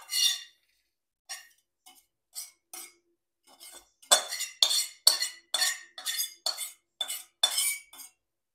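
A utensil scrapes and clinks against a pan while roasted coconut is stirred, sparse strokes at first, then quickening into a brisk series of close metallic scrapes with silent gaps.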